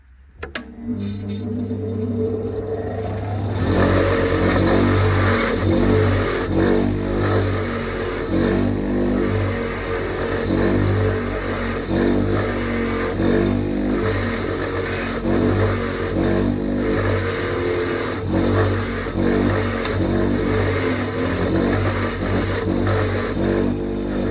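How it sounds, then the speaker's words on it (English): A bench wire wheel spins loudly and steadily while rear brake parts and handbrake levers from a Hillman Imp are pressed against it, with a continuous motor whine and rhythmic scraping bursts. No talking. "So most of this will be done on the wire wheel."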